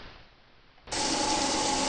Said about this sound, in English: what we're doing right now is just drilling a hole 1/64th under a ½ inch